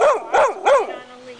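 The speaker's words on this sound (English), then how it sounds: "You're barking at that camera," A two-year-old pointer mix dog at an animal rescue barks three times in quick succession at a camera, loud and close, followed by a short trailing whine.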